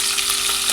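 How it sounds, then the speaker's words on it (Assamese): Fish frying in a pan gives off a dense, close, steady sizzle for under a second, with no voices over it. "এতিয়া মই এফালে মই মাছো ভাজি আছোঁ"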